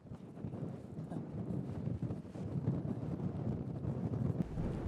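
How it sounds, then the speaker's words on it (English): Strong wind in Newfoundland buffets the microphone in a loud, continuous low rumble with gusty surges across the whole stretch, no voices heard. "when we thought it couldn't get any windier, it got windier"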